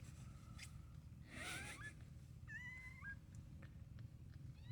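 Faint, high mewing from tiny newborn kittens whose eyes are still closed, a few short squeaks and rising cries over a low steady background hum.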